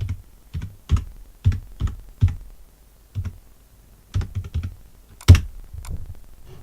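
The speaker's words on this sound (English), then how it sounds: "So all I do is just type in IP address" Typing an IP address on a computer keyboard: irregular, close, crisp key clicks in short bursts, with gaps between groups of presses and one louder tap near the end.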